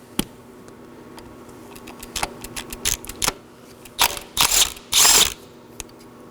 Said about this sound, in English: first we have a 10mm bolt. I'll be removing that right now.